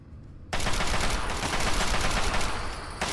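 Sustained gunfire from a gun in the video game Fallout 3 starts abruptly after a moment of near quiet, then carries on as a loud, dense burst of rapid shots for nearly three seconds before easing slightly at the end.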